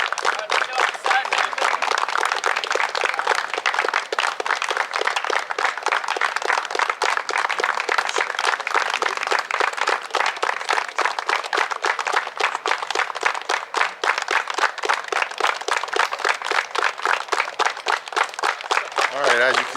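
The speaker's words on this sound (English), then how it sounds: "They're clapping it up at home plate." Umpire school students clap together at home plate on an outdoor field, a steady, dense run of many hands clapping for the whole stretch, fairly loud and close.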